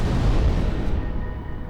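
Missile explosions in the space game Limit Theory, a low, muffled booming rumble that fills the moment, fairly steady and close, with no voices over it.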